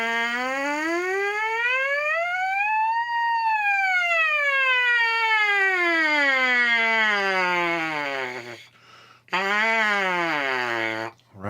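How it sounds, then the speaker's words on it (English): A brass mouthpiece buzzed on its own sweeps a siren glide, rising smoothly from low to high and falling back in one long arc, then breaks off briefly before a second shorter rise and fall, loud and close. "if I was to take the mouthpiece now and do the same basic siren concept"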